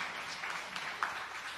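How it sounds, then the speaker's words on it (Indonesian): A church congregation claps for Jesus during a sermon, a brief, dense patter of many hands heard from a distance, fairly soft and steady throughout. "Yang setuju tepuk tangan yang meriah bagi Tuhan Yesus."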